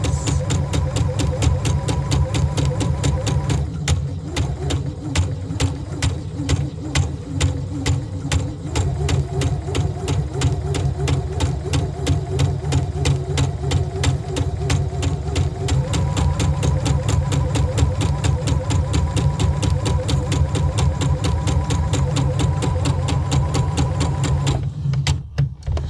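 A sewing machine runs a long, steady seam of large stitches with a 1/2 inch seam allowance while a dress is sewn. Its close, even mechanical whir and rapid needle rhythm continue almost unbroken.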